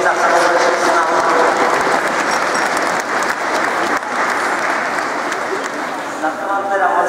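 Children applauding together after a song at a St. Nicholas (Mikuláš) gathering, a loud, sustained burst of clapping that carries on steadily for several seconds with no break.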